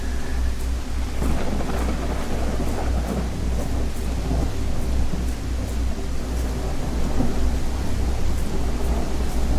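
Steady rain and rumbling thunder from a storm in an indie horror video game, a continuous low roar with faint repeated crackles, heard alone without voices.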